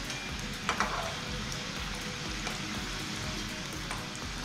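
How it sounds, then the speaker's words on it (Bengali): Potato finger rolls deep frying in hot oil give a steady, fairly quiet sizzle that runs throughout, with a couple of small clicks near the start like the pieces being turned. "আর এগুলো ডুবো তেলেই ভাজতে হবে"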